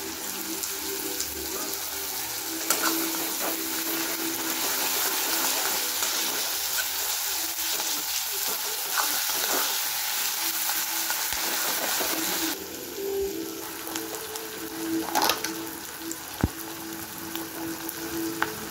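Spices fry in a little oil for chilli chicken, a steady dense sizzle that runs throughout with occasional stirring clicks and a slight drop in intensity partway.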